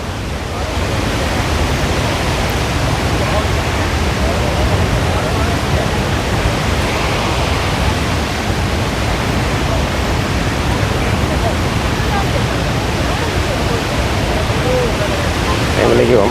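Steady, dense roar of rushing water at Athirappilly waterfall, heard close up as a continuous broadband wash with no breaks, loud and unchanging throughout.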